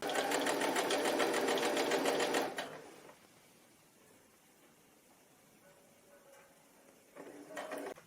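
A sewing machine stitches the shoulder seam of a dress, running loud and steady for about two and a half seconds, then stopping, with a short burst of stitching starting again near the end.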